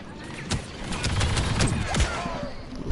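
Star Wars Battlefront 2 beta gameplay: rapid overlapping bursts of blaster gunfire crackle close and loud in quick succession, with brief voices mixed in.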